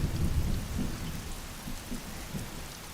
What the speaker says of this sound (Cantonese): 但係行雷唔係怪獸嚟㗎